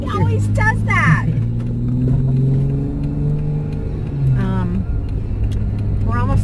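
Steady low car engine rumble and road noise from inside a moving car on the way to a doctor's appointment, running the whole time with people talking over it.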